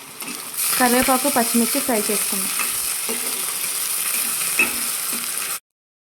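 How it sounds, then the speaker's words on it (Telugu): Curry leaves and green chillies frying in hot oil in a pan for chicken curry, a loud steady sizzle with crackling pops as the leaves hit the oil, then a continuous hiss before cutting off abruptly. "కరివేపాకు, పచ్చిమిర్చి ఫ్రై చేసుకుందాం."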